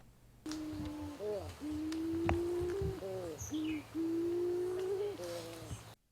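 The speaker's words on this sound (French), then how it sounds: "Le pigeon des mares est l'une des 9 espèces d'oiseaux endémiques de Maurice." Pink pigeon (pigeon des mares), an endemic Mauritian bird, calling on Île aux Aigrettes: a series of steady, drawn-out hooting coos, fairly close and clear, repeated with short breaks against a soft background.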